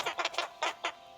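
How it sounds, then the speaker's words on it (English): Chickens cluck in the WorldBox video game: a quick run of short, sharp clucks, then two more spaced clucks, fairly close and clear with nothing else behind them. "Some chickens."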